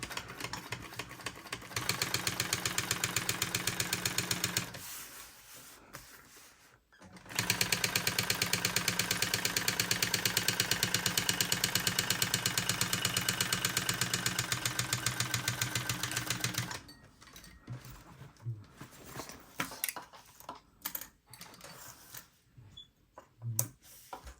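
A sewing machine runs a lengthened topstitch across a fully interfaced fabric border, with a short rapid burst followed by a longer steady run of fast, even stitching, then stops, leaving quieter handling sounds.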